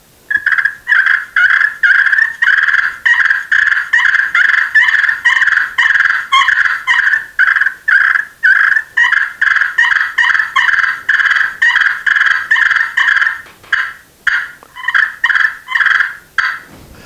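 Slate turkey call worked by hand to mimic fighting turkeys, a long run of rapid, raspy purrs and clucks in choppy bursts, loud and close with no voices over it.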